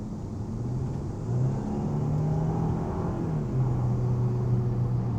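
A Genesis car engine smoothly accelerating while driving, heard as a steady low hum and whir that rises slightly in pitch, moderately quiet, with no talking.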